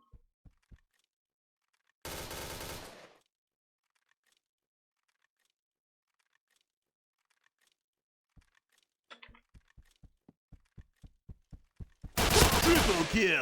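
Gunfire from the shooter game Point Blank comes in scattered single shots early on, then a quick run of evenly spaced sharp shots, with two loud bursts of noise around them and quiet stretches in between.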